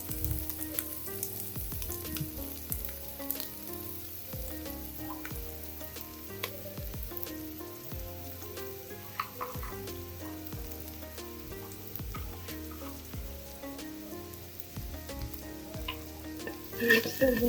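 Onions fry in a pan with chilli and turmeric, a steady soft sizzle broken by repeated scraping stirs of a spoon, close and fairly quiet with no speech.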